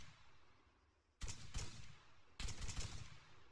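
Rifle shots in the military shooter Arma 3 at a rocky outdoor spot, a couple of single cracks followed by a short quick burst, fairly close over quiet ambient wind.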